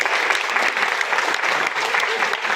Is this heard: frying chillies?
no